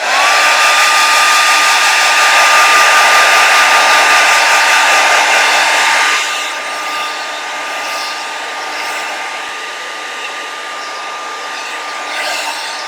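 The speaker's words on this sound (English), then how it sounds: "blow drying sounds" A hair dryer blows steadily on acrylic paint, a loud continuous whirring rush that drops to a lower, quieter setting about halfway through and keeps running to the end.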